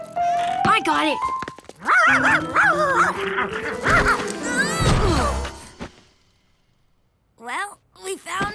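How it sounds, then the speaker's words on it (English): A cartoon dog barks and yips repeatedly, close and loud, over busy background commotion, then quiets before a few more sharp barks near the end. "A barking Sharky was even worse than a puddle."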